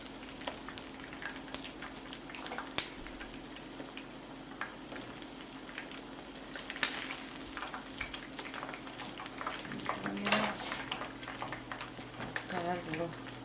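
Chicken deep-frying in hot oil gives a steady, moderate crackling sizzle that runs the whole time, with a few sharper pops and spatters, while a person talks quietly over it now and then.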